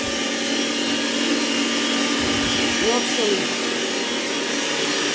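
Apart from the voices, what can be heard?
electric meat grinder running in kitchen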